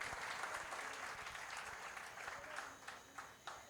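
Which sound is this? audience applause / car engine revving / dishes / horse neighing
audience applause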